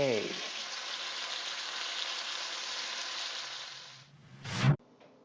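Vegetables sizzle in hot oil in a wok with a steady, even crackle, then a short louder scrape and toss right before the frying drops away.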